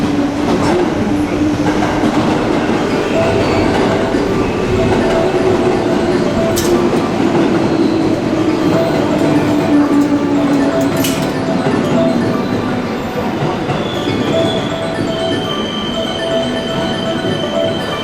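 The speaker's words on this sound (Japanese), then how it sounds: "14番乗り場に電車が参ります。" A JR West Yamatoji Line train pulls into the platform at Tennoji station, loud and close, with rumbling wheels, clattering rail joints and a gliding pitch as it slows. Brakes squeal faintly and a brief sharp tone cuts in near the end.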